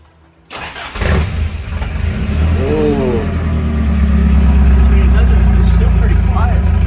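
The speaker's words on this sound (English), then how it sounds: "we want to see how that 22RE sounds with no muffler" A Toyota pickup's 22RE four-cylinder engine with no muffler cranks and catches, then idles and revs loud and close, a low raw drone that builds steadily; a voice speaks briefly over it.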